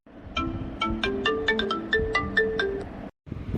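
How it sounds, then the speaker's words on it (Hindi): A tuneful phone ringtone chimes through a steady run of plucked-sounding notes, moderately loud, before stopping suddenly. "दूसरे दिन सुबह ही फोन की घंटी घनघना उठती"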